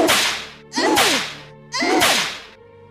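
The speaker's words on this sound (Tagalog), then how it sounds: "paulit-ulit siyang pinapalo ni Aling Matilda ng buntot pagi upang paslangin na ito." Three sharp whip lashes from a stingray-tail whip, each a loud crack with a swishing tail, struck at an even pace about one second apart with no voices.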